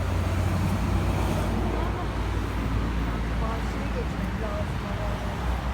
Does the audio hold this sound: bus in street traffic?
yes